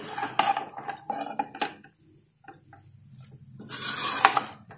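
Chicken and masala for erachi choru are stirred together in a cooking pot, giving close, soft clinks and scrapes of a spoon against metal, a quiet gap, then a brighter clattering scrape.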